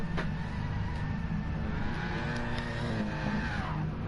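A Jaguar V8 race car in a racing video game drones with a dense, steady engine roar and a brief tyre squeal, with no talk over it.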